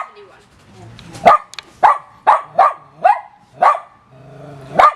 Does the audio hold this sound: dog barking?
yes